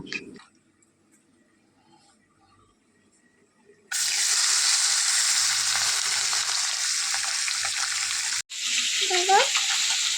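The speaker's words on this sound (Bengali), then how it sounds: "আমি এখন মাছ ভাজছি" Small fish coated in salt and turmeric fry in a pan, a loud, dense sizzle bursting in suddenly after a quiet start, briefly cutting out, then resuming with a faint voice-like sound over it.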